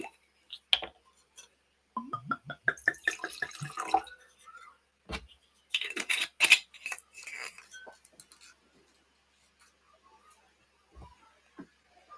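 Wine is poured into a glass with a short run of quick glugs rising in pitch, followed by faint drips and a light clink of glass. The sounds are quiet and close in a still room.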